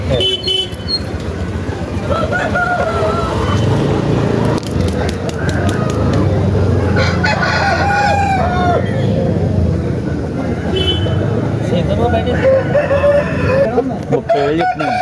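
Roosters crow and hens cluck at a busy Saturday country chicken market, loud and close, with several calls through the stretch while people bargain nearby and a vehicle horn toots.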